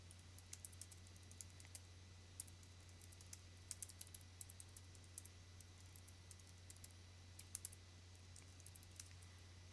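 Computer keyboard typing, heard as faint, irregular clusters of quick clicks scattered across the stretch over a steady low electrical hum, with no voices.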